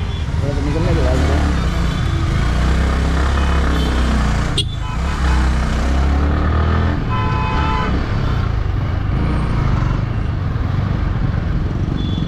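Heavy road traffic in Jammu, heard while riding a motorcycle, with cars, scooters and trucks roaring steadily and horns honking throughout. A voice talks over the loud, constant din.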